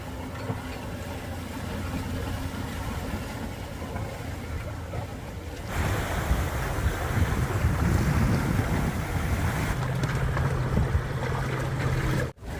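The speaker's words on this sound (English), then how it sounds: "This is the first day I've had any decent wind of any significance" Steady wind roars across a sailboat on Chesapeake Bay, loud and continuous with water rushing beneath the hull, growing stronger and gustier partway through before cutting off abruptly at the end.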